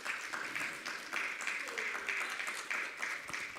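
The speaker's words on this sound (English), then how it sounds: "Please clap hands for Dr." Audience at an African trade union conference on debt sustainability applauding a presenting economist: quiet, rhythmic group clapping in regular pulses, somewhat distant in the hall.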